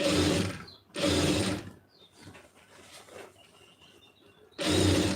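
Sewing machine stitching piping onto fabric in three quick bursts of rapid mechanical chatter, with quieter pauses between runs and no voices.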